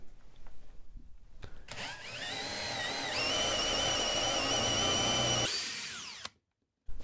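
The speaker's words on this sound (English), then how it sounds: "So what I'm going to do is drill a hole. This is a drill for a pilot hole and a countersink" A power drill bores a pilot hole and countersink into wood for a tapered wood plug, whining steadily for several seconds with a rising pitch, then spinning down and stopping, close and loud.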